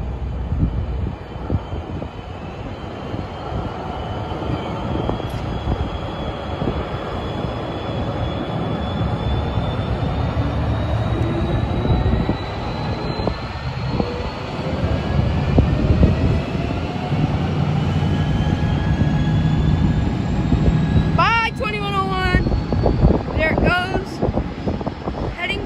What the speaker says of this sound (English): Now departing Amtrak Capital Corridor Train